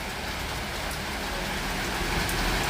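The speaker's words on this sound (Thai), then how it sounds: "ฝนมันตกจนน้ำท่วมเลยนะคะวันนี้" Heavy rain pours steadily during a flood, a dense, continuous hiss of downpour close by with no talk over it.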